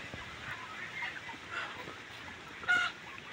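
Chickens cluck softly in the background over a low hum in a farm shed holding about 800 birds, with one sharper squawk near the end.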